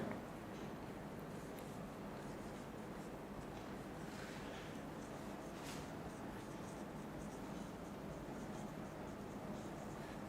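Marker or chalk scratching across a classroom board in a German lesson, a steady, continuous scraping texture with a few sharper strokes, fairly close and without talk.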